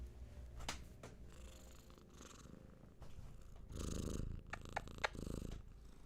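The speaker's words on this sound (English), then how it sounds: "No, the big purrs." A cat purring steadily and close up, a continuous low rumbling purr with rhythmic breath cycles, heard alone without talk.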